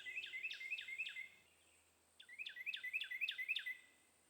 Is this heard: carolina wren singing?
yes